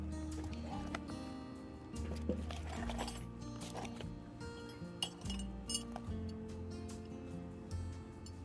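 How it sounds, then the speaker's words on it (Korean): Metal tent pegs and a hammer are packed into a Primori tool box case for camping and fishing gear, making quiet clinks, light metallic taps and rattles at an irregular pace, close but faint. "해머 하나 넣어보고요"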